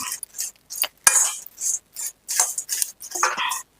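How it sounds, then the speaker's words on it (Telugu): Dried shrimp chili powder being stirred in a hot iron kadai off the stove, with irregular scraping and clinking bursts of a spoon against metal, fairly close and moderately loud, with no talking. "స్టవ్ బంద్ చేసినండి ఇంకా నేను బంద్ చేసేసి దీన్ని ఇలానే కలుపుతున్నా అండి ఎందుకంటే ఈ ఐరన్ కడాయి కదా"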